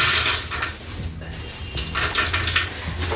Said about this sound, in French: je vais mettre les arachides au feu dans la même marmite dans laquelle j'ai mis le ndolé